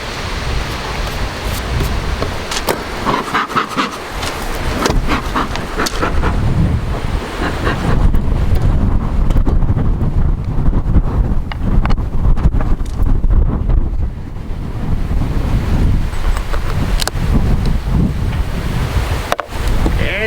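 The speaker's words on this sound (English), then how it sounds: "It's a windy one." Strong wind gusts buffet the microphone outdoors by a beehive during a late-season honey harvest, a loud continuous roar with rumbling surges and brief lulls.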